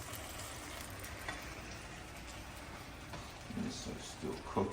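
Quiet sizzling of Italian-style vegetarian sausage frying in a pan, a soft steady crackle that grows a little busier and louder toward the end.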